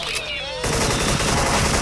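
Rapid gunfire in a Thai online shooter, an ice-skinned AK-74 among other weapons, erupting loudly after a brief lull and continuing as dense, sustained bursts to the end.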